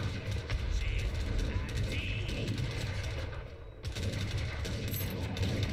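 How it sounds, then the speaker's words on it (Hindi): Cannon and gunfire in the video game Age of Empires III, a dense continuous battle clatter of rapid shots and booms, loud throughout with a brief dip near the middle. "तोपे मार ना नीलांश, तेरे बगल से तोपे जा रही है"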